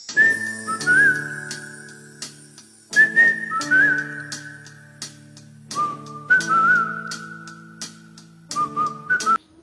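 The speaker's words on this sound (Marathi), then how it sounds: "मस्त विस्लिंग करतात" Whistling by the daughter of a Bollywood film whistler comes in four clear melodic phrases separated by short pauses, close and bright over soft sustained accompaniment.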